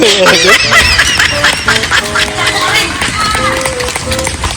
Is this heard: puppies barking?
no